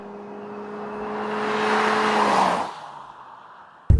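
A 2013 Ford C-Max Energi hybrid accelerates at full throttle, its engine and electric motor rising in a steady strained drone that swells over two seconds, then drops off abruptly, ending in a brief loud bump.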